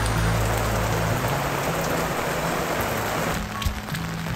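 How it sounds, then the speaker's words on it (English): Heavy rain pours down in a steady, loud, close roar that thins slightly near the end, with a low hum underneath and no one talking. "I don't mind sitting right here and enjoying the rain as well."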